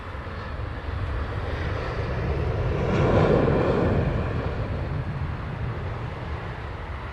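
An aircraft arriving at Heathrow Airport in the evening, a deep engine roar swelling as it passes nearest, then easing into a steady distant rumble.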